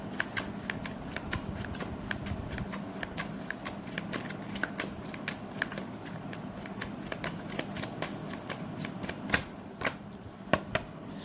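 Tarot cards shuffled by hand, a long run of quick crisp riffling flicks and slaps, close and fairly loud, ending with a few sharper snaps as cards are drawn.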